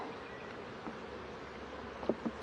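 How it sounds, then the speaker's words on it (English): Honey bees buzzing around a newly placed hive frame as a soft, steady low hum close by, with a couple of brief louder buzzes near the end. "I'm having a little bit of problem right now with bees walking under me"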